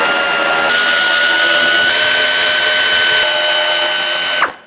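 Power tool zipping out 7 mm front bumper bolts on a Chevrolet HHR, a loud continuous whine for over four seconds that cuts off abruptly near the end.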